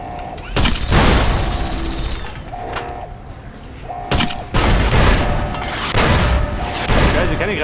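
Grenade and gunfire blasts from Fallout New Vegas sound in loud bursts, several heavy booms and rattling shots over a few seconds, with a steady tonal hum running underneath.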